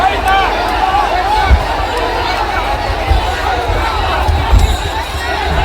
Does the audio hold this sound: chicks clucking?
no